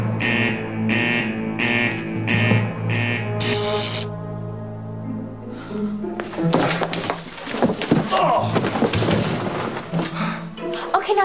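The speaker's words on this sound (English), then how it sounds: "They triggered the alarm." Alarm set off by a break-in on a town's main street: a loud electronic alarm pulses in a regular on-off rhythm for several seconds, then stops, followed by a jumble of clattering and knocking noises.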